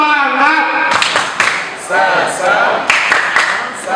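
A group performs a rhythmic spirit clap at a student debate event, several sharp claps in an uneven pattern over a few seconds, mixed with shouted voices.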